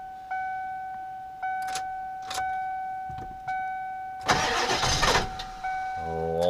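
Diesel engine with glow plugs warmed up, heard as a series of chimes and clicks from key cycles, then a loud burst of cranking before the engine catches and starts idling.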